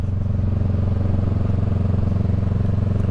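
Honda Rebel 500 motorcycle with a Shorty GP exhaust and baffle idling close by, a steady deep burbling rumble that never changes pace.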